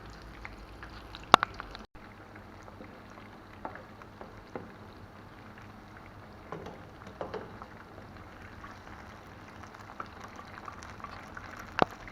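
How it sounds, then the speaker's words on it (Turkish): Steady crackling and sizzling of sauce-dipped cauliflower frying in hot oil, with scattered sharper pops over a continuous low bubbling hiss. "ve kızartmaya başlıyoruz"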